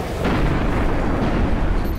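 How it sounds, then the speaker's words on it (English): A big explosion in the video game Destiny rumbles as a dense, loud, sustained roar of low-heavy noise lasting about two seconds, with no voices over it. "It's gonna be a big explosion."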